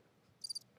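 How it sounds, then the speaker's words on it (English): A cricket chirp sound effect: a short burst of three quick high chirps over a quiet, faint background. "Crickets."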